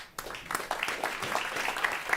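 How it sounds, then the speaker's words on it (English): Modest audience applause at a panel discussion on sustainability, a steady patter of clapping from a smallish crowd that starts abruptly and continues evenly for about two seconds. "Round of applause."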